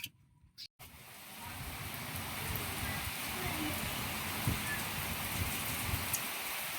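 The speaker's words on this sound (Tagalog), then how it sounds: "Taas ng ulan." Steady, dense heavy rain noise in Bicol, Philippines, builds after a brief pause and continues without a break, with a few faint thumps underneath.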